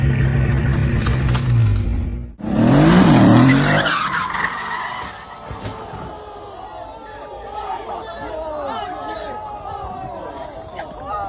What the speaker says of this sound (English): This Mercedes loses control on a perfectly flat road.